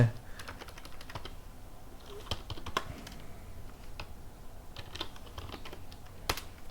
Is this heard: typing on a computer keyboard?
yes